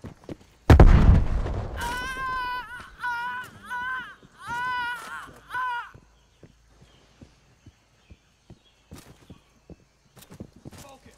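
A frag grenade explodes in the video game Call of Duty Cold War with a single loud, deep blast near the start, followed by voices talking and faint scattered clicks.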